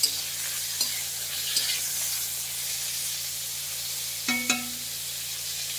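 Close, continuous sizzling of pointed gourd frying in a pan, with a few sharp scrapes from a spatula.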